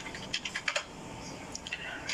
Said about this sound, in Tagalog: Nagtatype sa backstage si Limor, eh.